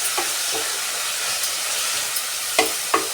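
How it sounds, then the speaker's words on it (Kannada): Ingredients for wedding-style ghee rice frying in a pan, a steady broadband sizzle with a few sharp stirring clinks and scrapes, the last two near the end louder; no voices. "ಈಗ ಇದು ಫ್ರೈ ಆಯ್ತಾ ಇರಲಿ."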